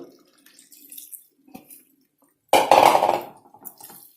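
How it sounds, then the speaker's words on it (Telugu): Water splashes into a cooking pot of marinated spicy pepper chicken, a short loud pour of less than half a cup in a home kitchen, coming after quiet moments with faint clinks. "మనం కొన్ని నీళ్లు వేసుకోవాలండి, ఎక్కువ లేదు."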